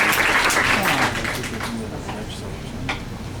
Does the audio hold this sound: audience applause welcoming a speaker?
yes